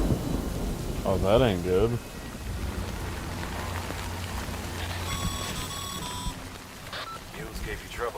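Rain and thunder in the video game Death Stranding, a steady wash of rainfall with low rumbling beneath, while someone talks briefly and electronic beeps sound near the end.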